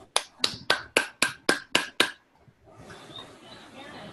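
Eight sharp, evenly spaced claps ring out close and loud at a brisk steady pace during an online webinar session, then give way to a soft, continuous wash of background noise.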